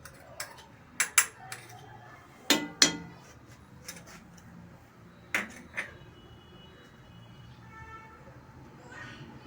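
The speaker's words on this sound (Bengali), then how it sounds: "তারপরে বাদবাকি রসম পাউডারটা আমি এর মধ্যে মিশিয়ে দিচ্ছি" A spoon stirs rasam powder into dal rasam in a metal pot, giving a few sharp clinks and scrapes against the rim at irregular intervals. Soft background sounds fill the gaps, and a voice speaks faintly.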